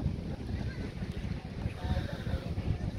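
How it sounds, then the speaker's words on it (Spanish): A small motorboat's engine drones steadily at a moderate distance as it arrives carrying passengers in El Salvador during Tropical Storm Pilar, mixed with wind and the wash of water, with no voices. "Allá viene el señor, miren, con otro viajecito de gente en la lancha"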